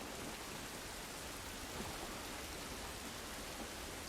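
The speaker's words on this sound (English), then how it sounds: "This rain ain't gonna do us any good." Steady rain pours in a video game, an even wash of hiss with no breaks or individual drops standing out, moderately loud and alone without any talking.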